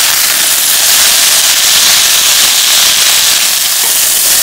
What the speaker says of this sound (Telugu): ఇక్కడ నేను మాకు ఇంకా కొంచెం క్రిస్పీ కావాలని ఇంకా కొంచెం ఫ్రై చేస్తున్నాను.